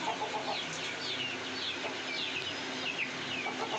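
Desi free-range chickens cluck and chatter together close by, a steady layered flock noise with occasional higher calls and no speech over it.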